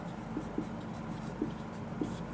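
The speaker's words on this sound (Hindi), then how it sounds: "यहाँ लिखते हैं हेडिंग" Chalk or marker tapping and scratching on a classroom board while a heading is written, a few soft scattered strokes over a steady faint room hum.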